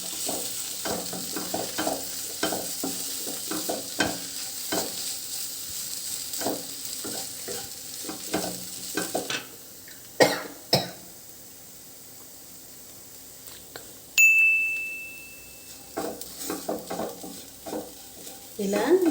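Fenugreek leaves fry is stirred in a pan, a rhythmic series of scraping and shuffling strokes over a soft sizzle, pausing briefly midway with a faint tonal beep before stirring resumes.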